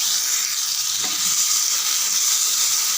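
Two normal-sized tomatoes with dried red chillies sautéing in a pan, a continuous loud hissing sizzle close up, steady throughout with a faint stir partway through.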